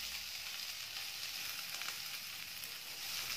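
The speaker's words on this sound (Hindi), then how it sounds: "जो स्टर फ्राई वेजिटेबल्स होती हैं वो हाई फ्लेम पे ही पकाई जाती हैं" Capsicum, cabbage and other vegetables stir-fry in a pan over a medium-high gas flame, giving a close, even, continuous sizzle with faint stirring and no speech.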